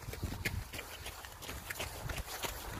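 Horse hooves clip-clop along a village road in Germany on a cold day, a steady run of close hoof strikes over a broadband outdoor background.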